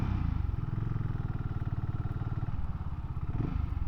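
A BSA 650 Scrambler motorcycle engine idles while warming up, a steady close thumping rumble with an even pulsing beat and slight mechanical clatter throughout.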